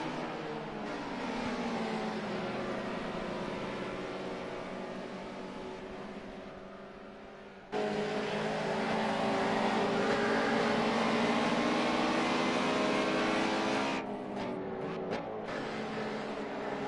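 Historic touring cars racing past, including a BMW, engines droning loudly at high revs with rising pitch as the field accelerates, a sudden louder surge midway and a brief drop near the end.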